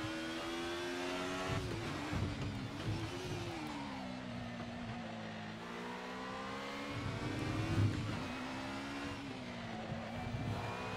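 A 1990s DTM racing car engine in a sim racing game drones and revs steadily at the Nürburgring, pitch rising and falling through gear changes and corners, with a synthetic, game-like quality and no talking.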